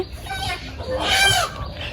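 Hens and ducks clucking, quacking and squawking agitatedly as they fight inside a coop at close range, with a louder flurry of cackling in the middle; no speech.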